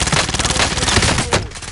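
Sustained automatic gunfire in the Warzone video game, loud, dense bursts of rapid shots overlapping for the full stretch with no gaps.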